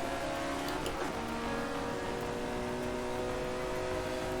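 An Alfa Romeo 33 Stradale engine is held at full throttle, a steady loud roar with a dense, even drone that does not let up, heard from inside the car.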